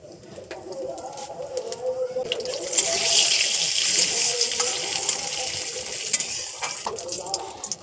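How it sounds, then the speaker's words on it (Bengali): Cumin seeds, dried red chillies and bay leaves hitting hot oil in a pan, a loud broad hiss that swells suddenly and holds steady, with bird coos faintly in the background. "জিরে, শুকনো লঙ্কা, তেজপাতা ফোড়ন দিয়ে দেব।"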